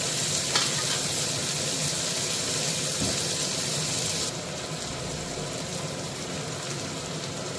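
Onions sauté in a pan for spicy chicken gravy, giving a steady, loud, close sizzle with occasional stirring scrapes and a slight drop in intensity partway through, and no talking.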